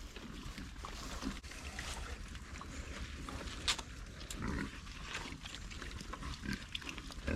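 Pigs feeding on zucchini scraps, with close, continuous grunting and wet chewing and snuffling sounds at a moderate level and no talk.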